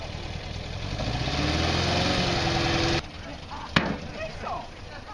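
A vehicle engine idles while warming up, a steady close chugging rumble that drops away after a few seconds, followed by a quieter background and a sharp click.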